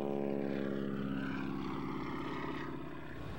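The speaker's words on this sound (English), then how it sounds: "This is an airplane that was built as a pleasure aircraft." A propeller airplane built as a pleasure aircraft drones overhead at an air show in Dayton, Ohio, its steady engine hum holding loud and even before easing slightly at the end.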